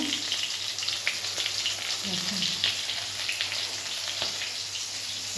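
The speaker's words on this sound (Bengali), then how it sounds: "দেখো মাছটা ভাজি হচ্ছে" Rohu fish pieces fry in hot oil with a continuous, crackling sizzle and scattered pops, heard close and alone at moderate loudness.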